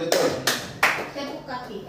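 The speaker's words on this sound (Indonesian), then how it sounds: "Tepuk kaki." A group of teachers at a school training session stamping their feet together: three sharp, broad thumps in quick succession, followed by softer scattered taps, with voices murmuring underneath.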